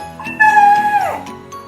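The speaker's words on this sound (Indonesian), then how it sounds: "Suara apa? Suara kambing." A single drawn-out goat bleat, loud and close, holding a steady pitch before sliding downward and fading out.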